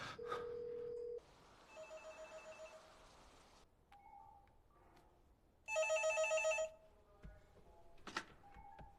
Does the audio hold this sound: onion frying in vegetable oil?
no